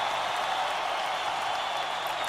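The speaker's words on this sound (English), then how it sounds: "Keep the applause coming. Thank you, audience." Audience applause at a live show: a dense, steady wash of many hands clapping together, loud and continuous throughout without pauses.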